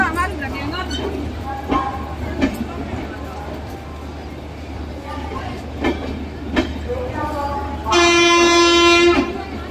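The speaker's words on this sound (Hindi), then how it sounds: "हजरत निजामुद्दीन से इस ट्रेन का डिपार्चर" Sampark Kranti express 12650 pulls out of Hazrat Nizamuddin station with a steady low rumble and rail clatter, voices murmuring around it, then a loud sustained horn blast near the end.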